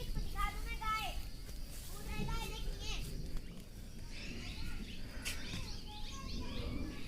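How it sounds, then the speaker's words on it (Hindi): A flock of birds chirps in quick, repeated bursts while feeding on winged ants outdoors, with children's voices and other people talking over the calls throughout. "सारे पक्षियों को दावत मिल गई है।"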